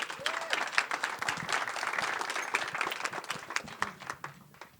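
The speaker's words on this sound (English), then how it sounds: "But let's first give him a really big welcome and round of applause." Audience applause welcoming a speaker at a summit session, steady crowd clapping with scattered cheers that holds strong for several seconds before tapering off.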